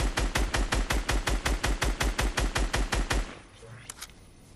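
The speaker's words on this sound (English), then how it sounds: "I don't know where they're shooting from." Rapid automatic gunfire in the video game Fortnite, a fast, evenly spaced burst of about twenty loud shots lasting around three seconds before cutting off to quieter background noise.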